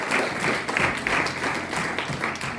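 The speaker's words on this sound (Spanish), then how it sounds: "Fate le mani al Signore." A church congregation gives sustained applause to the Lord during a sermon, a dense, even wash of many hands clapping at moderate volume with no break.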